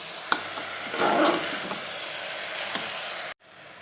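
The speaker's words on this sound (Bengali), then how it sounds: "আমি এখানেই যা কষানোর কষাবো" Ingredients sautéing in a pan for basanti pulao, a continuous hissing fry with a few stirring scrapes and a louder burst of sizzle, ending abruptly.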